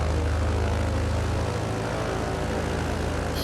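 A BN2 Islander twin-propeller airplane beginning to taxi, its engines droning loudly and steadily with a deep, continuous propeller hum close by.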